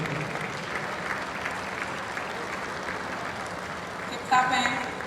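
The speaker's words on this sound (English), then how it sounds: "Please, we don't stop clapping till he gets here." Tech conference audience keeps up sustained applause as a speaker walks to the stage, an even crowd-wide patter with a brief louder swell near the end where a voice cuts in.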